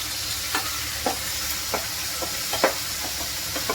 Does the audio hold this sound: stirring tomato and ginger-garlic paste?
yes